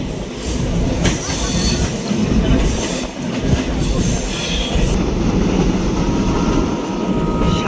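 Loud, continuous rumble and rattle of the Sundarban Express passenger train running on rails between Dhaka and Khulna, heard close on board, with wheel squeal and faint clickety-clack over the steady roar.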